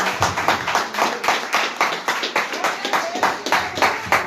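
Congregation clapping in worship during a Portuguese-language church service, a steady run of rhythmic handclaps with voices talking and singing underneath throughout.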